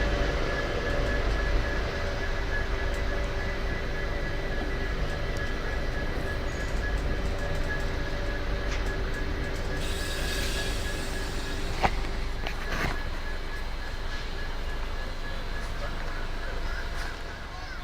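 Diesel-hauled Jodhpur express train arriving at Bhagat Ki Kothi station, a steady close rumble of engine and rolling wagons throughout, with a brief metallic clank near the middle and a person talking over it.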